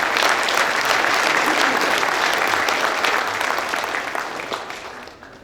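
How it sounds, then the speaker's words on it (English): An audience at the opening ceremony of the Sunbelt Ag Expo 2023 claps steadily in a dense, sustained round of applause that slowly fades toward the end. "Let's give them a round of applause."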